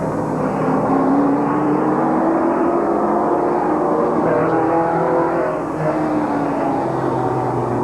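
Super late model stock cars at a short-track speedway in 1987 rumble together on the green flag lap, a loud, steady, dense engine drone with no break.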